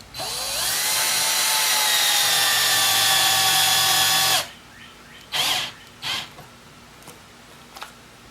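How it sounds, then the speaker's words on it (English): A power drill set to low speed whines steadily at high pitch for about four seconds, drilling into a five-gallon plastic bucket, close and loud, then stops, followed by a few short knocks and handling sounds. "And I'm going to turn my drill down to 1 instead of having it on high power."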